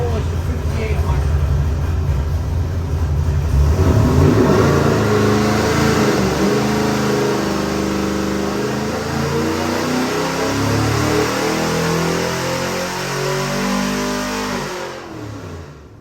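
A 1968 Ford Mustang's 347ci small-block stroker V8 revs hard on a dyno, climbing in pitch through a sustained loud pull with rising harmonic sweeps before easing off near the end.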